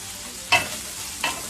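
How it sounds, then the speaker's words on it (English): Steady frying hiss of ground beef sizzling in a pan, with two brief bursts of stirring or scraping, fairly close. "Look at that sizzle."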